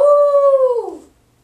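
A human voice imitates a coyote howling at the night sky, giving one loud, sustained tonal howl that slides downward and fades out, followed by silence.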